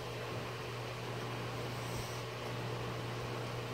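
A Windmere DF-12 desk fan runs steadily nearby, a constant whooshing blow of air over a low, even motor hum with no change in pitch.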